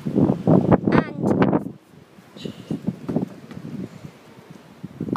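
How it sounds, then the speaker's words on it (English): Strong wind gusting through a home garden, buffeting the microphone in heavy rumbling bursts, then easing into softer, scattered gusts with rustling. "And it's really windy."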